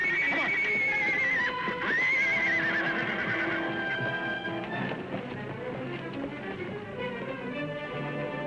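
Horses neigh in loud, drawn-out whinnies up close, followed by softer snorting and faint hoof clatter.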